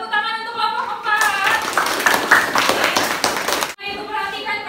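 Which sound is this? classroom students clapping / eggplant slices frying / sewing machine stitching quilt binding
classroom students clapping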